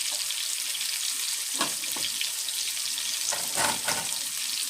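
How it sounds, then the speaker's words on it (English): Garlic fries in hot oil with a steady, loud sizzle that fills the clip, with a few louder crackling bursts and the scrape of stirring near the middle and end; no one speaks. "you're going to let the oil catch the garlic flavors"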